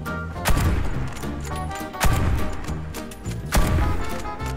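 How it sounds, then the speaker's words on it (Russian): CheyTac M200 bolt-action sniper rifle fired from the hip in the shooter game Warface, three loud sharp shots spaced about 1.5 seconds apart over a busy layer of game music and ambience. "И с прокачанной кучностью Чайтак начинает стрелять."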